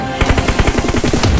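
Rapid automatic gunfire from PUBG Mobile, loud and close, a steady burst of sharp repeated shots running through the whole clip with no talk.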